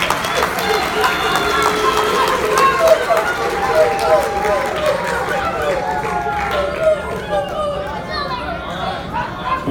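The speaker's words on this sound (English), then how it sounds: "Round of applause for these boys." An audience at a keynote speaking event gives a round of applause, a loud, dense, sustained clatter of clapping mixed with crowd chatter and cheering that runs throughout.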